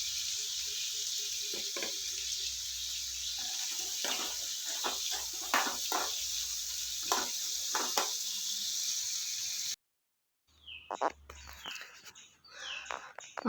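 Cashews sizzle in hot oil in a pan, a steady crackling hiss with occasional stirring clatters, then a brief cut to quieter scraping.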